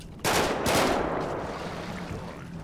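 Gunfire in GTA 5 erupts as a loud burst of rapid shots, then fades into a rumbling, noisy tail that lasts a couple of seconds.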